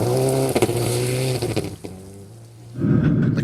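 A rally car on a gravel stage of the Wairarapa rally in New Zealand revs hard through gears, engine note rising and falling, then briefly dropping away before surging back loudly, with no talk.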